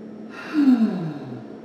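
A single deep breath during a yoga puppy-dog stretch, an audible airy inhale-exhale lasting about a second, close and moderately loud in a quiet room.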